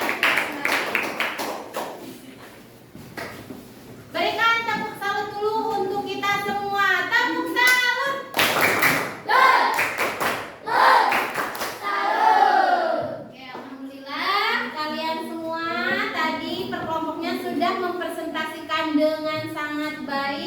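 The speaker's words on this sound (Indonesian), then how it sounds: "Berikan tepuk salut dulu untuk kita" A classroom of students performs a rhythmic clapping cheer, claps punctuating chanted group voices and a teacher's talk in bursts across the stretch.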